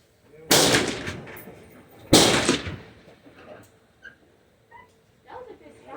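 Two loud, sharp rifle shots from an AR-15 or AK-47 crack out about one and a half seconds apart at an outdoor 200-yard shooting range, each followed by a decaying echo, with faint voices and noises afterward.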